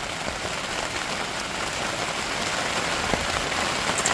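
Rain falls steadily on a surface nearby, a dense even patter of drops that holds constant with no voices.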